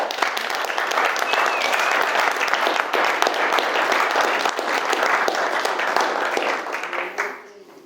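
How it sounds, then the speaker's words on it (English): Wedding guests give a warm round of applause, a full, steady burst of clapping with some crowd murmur that rises quickly and tapers off after about seven seconds. "So I'd like you to please give them a very warm round of applause."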